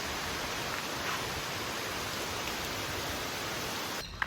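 Heavy rain falls in a steady, dense hiss, even and unbroken, fairly faint and heard alone without voices.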